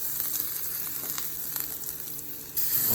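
Jerk chicken sizzles steadily on a charcoal grill while being basted with a signature jerk sauce, a close, continuous frying hiss with small crackles that swells louder near the end.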